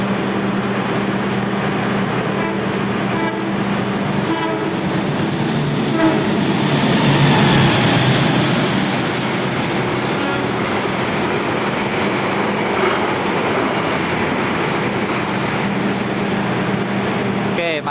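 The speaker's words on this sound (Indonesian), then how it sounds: "Kereta api Madiun Jaya KA143 tujuan Jakarta dari Madiun nih" The Madiun Jaya KA143 passenger train, with New Generation executive and premium economy coaches, rolls through Wates station, a loud, close, continuous rumble and clatter of wheels on rail that swells as it passes, with a horn early on.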